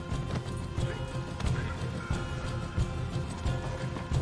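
Horses in Red Dead Redemption 2 gallop with a rapid, uneven clip-clop of hooves, joined by occasional neighs, over a busy, moderately quiet game soundscape.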